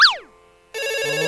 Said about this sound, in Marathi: अरे फोन वाजतोय तुझा.